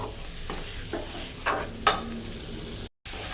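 Chicken with masala and a tomato-onion paste gets stirred in a pan, a soft steady scraping with a few sharper utensil clicks and a short break near the end, under a low background hiss.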